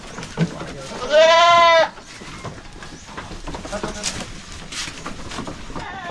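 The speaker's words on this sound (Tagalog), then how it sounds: "Naglandi po yung kambing na yan mga kaprobinsya" A single wavering goat bleat rises clearly for under a second, followed by quieter background noise and faint voices.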